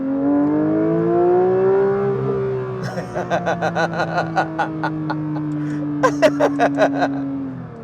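A manual Porsche 911 GT3 engine revs hard toward 9000 RPM: a rising, sustained high-pitched wail that holds, followed by a series of rapid sharp pulses and crackles, loud and close.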